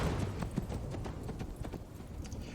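Horse hooves clip-clopping at a steady riding pace in a The Last of Us episode, a rhythmic run of soft close footfalls over low background noise.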